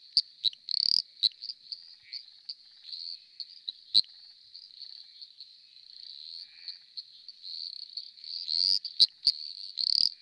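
Eastern dwarf tree frog (Litoria fallax) giving a steady, continuous high ratchet trill with a few louder, sharper pips near the start and end, heard alone with no talk.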